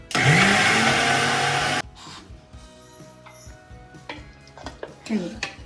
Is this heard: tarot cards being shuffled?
no